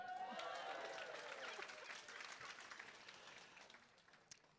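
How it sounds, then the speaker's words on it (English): An audience at a national awards event cheers and applauds for an honoree, a loud burst of clapping with voices that gradually thins and fades over a few seconds. "I'll give Richard a cheer."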